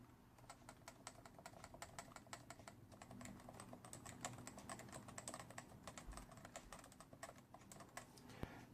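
Fast, continuous typing on a Cooler Master Nova Touch keyboard with Topre switches, a dense stream of soft, muted keystrokes at low volume with no voices.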